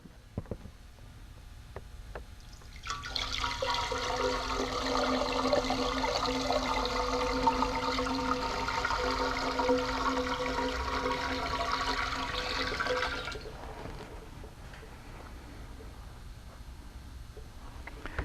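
Water pours steadily into a 3-quart container for about ten seconds, a full, rushing splash that then stops, leaving quiet room tone.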